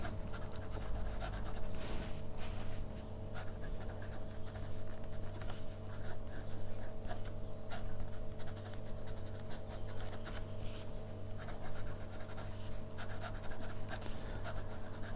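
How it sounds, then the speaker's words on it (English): Fine-nib fountain pen, a Hongdian 920, scratching and gliding across paper close up, with a steady papery rasp and frequent brief strokes over a constant low room hum. "So let's do the writing sample."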